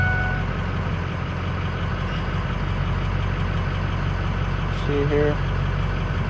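A truck engine idles with a steady low rumble throughout, a brief beeping partway through, and a voice speaking briefly over it.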